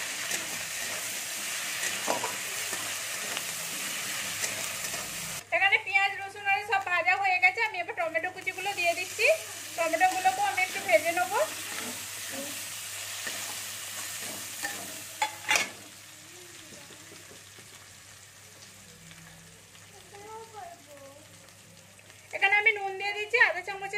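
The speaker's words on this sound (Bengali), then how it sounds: "এবার আমি আদা রসুন বাটাটা দিয়ে দিচ্ছি। আদা রসুনটা 1 চামচের মতো রয়েছে, এটাকে আমি একটু ভেজে নেবো।" Onions and ginger-garlic paste sizzle while being stirred in a frying pan for okra do pyaza, a soft, steady frying hiss heard alone at first and then beneath a voice talking for most of the clip.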